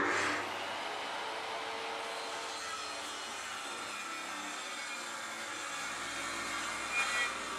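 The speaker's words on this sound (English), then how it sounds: "using my circular saw to cut it to length" A circular saw cuts a sheet of Baltic birch plywood to length, producing a continuous, moderately loud rasping wood-cutting noise that holds steady throughout with no voices.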